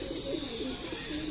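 Pet pigeons coo in a steady, rolling murmur close by, several birds overlapping in a continuous low warble with no pauses.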